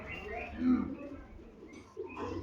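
Red Chini Madina pigeons coo softly in a loft, with a low, rounded call swelling near the start among other faint bird sounds and background voices.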